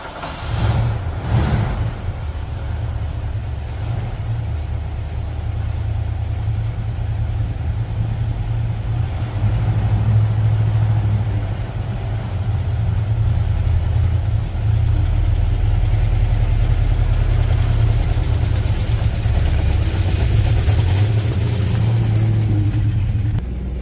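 A white Ford Mustang starts up in a garage and settles into a steady, low, rumbling idle that holds close and even for the rest of the span.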